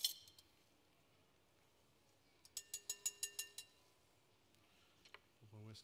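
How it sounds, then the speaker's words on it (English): Quiet metallic clinks of a whisk set down on a counter: a quick run of about seven light rattling taps, then a faint clatter, with a voice starting at the end. "Put my whisk down there."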